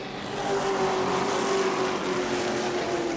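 Race cars roaring around the New Smyrna track in the Governor's Cup, a sustained engine drone with rising and falling pitch as the cars battle, loud and continuous with no voice over it.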